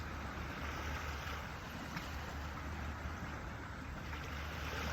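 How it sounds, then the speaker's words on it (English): Ocean waves wash steadily in a continuous broadband roar, a constant surf-like hiss at moderate level with no distinct breaks and no voices. "Listen to the waves."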